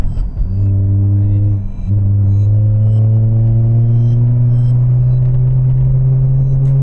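A 2004 Mazda RX-8 rotary engine pulls up steadily under acceleration, a loud close droning hum climbing smoothly in pitch after a brief dip, with no talking over it.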